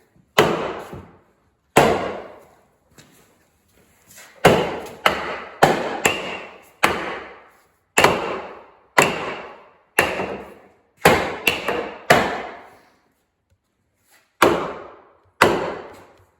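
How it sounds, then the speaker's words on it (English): Sharp, heavy hammer blows on wood, some single and some in quick pairs or triples, spaced irregularly with quiet gaps between, close and loud. "A little bigger hammer."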